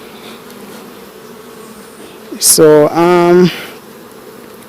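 Steady low insect buzzing of honeybees at a hive in Jamaica fills the background, with a brief louder tonal burst midway and a short spoken word.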